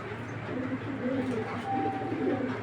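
A big cream bar female racing pigeon coos softly and repeatedly at close range, with faint background hum and a brief thin tone partway through.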